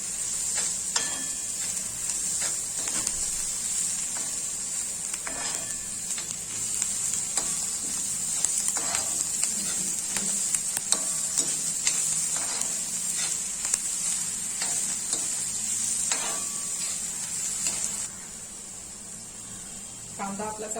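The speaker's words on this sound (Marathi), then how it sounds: "कांदा आपण चांगला परतून घेऊया आता" Onion and garlic sauté on an iron tava, a continuous soft sizzle broken by occasional stirring scrapes. It runs quietly for most of the stretch and drops lower near the end.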